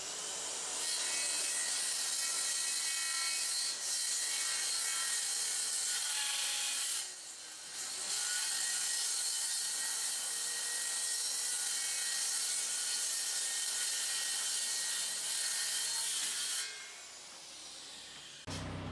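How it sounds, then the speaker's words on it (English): A power tool trims the ends of 2x6 boards square for a bench build, a loud, continuous grinding whine held close for long stretches with two brief dips, then cutting off near the end. "Now we're going to shave the ends of all the 2x6s to make sure that they're as square as we can get them."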